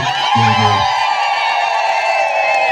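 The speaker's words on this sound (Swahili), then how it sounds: "Tumshangilie Mwenyezi Mungu, makofi." A crowd at a bishop's welcome ceremony cheers and ululates loudly after a call for applause, with high trilling voices and shouts sustained throughout and a brief lower voice near the start.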